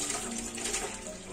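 Water runs steadily from a tap into a sink while waiting for it to turn hot, a constant close rushing hiss without pauses.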